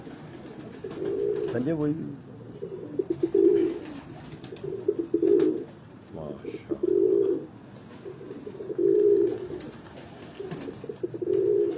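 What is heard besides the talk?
pigeons cooing on a Lahore rooftop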